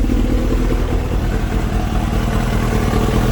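A Kawasaki ZX7R sport motorcycle fitted with a 6 Sigma jetting kit runs after a cold start. Its engine gives a loud, close, steady rumble with a clattery mechanical texture, and no voices are heard.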